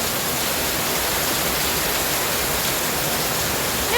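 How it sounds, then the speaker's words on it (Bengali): Heavy morning downpour, a steady broadband roar of pouring rain that holds evenly throughout, dense and close with no speech. "সকাল সকাল কি জোরে বৃষ্টি, দেখো"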